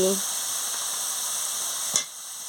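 Potatoes frying with ground mustard paste and spices in a pan for an okra chorchori, a steady close hiss of sizzling with a brief clatter near the end.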